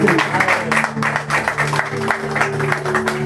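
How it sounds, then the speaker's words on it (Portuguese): A church congregation at a prayer and fasting service claps together in a rhythmic burst of applause, dense and lively in a reverberant hall, with a voice faintly present underneath. "Quem crê bate uma salva de palmas para Jesus"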